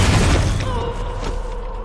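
A loud boom from a sniper rifle shot in an action film, with heavy low-end rumble that decays over about two seconds.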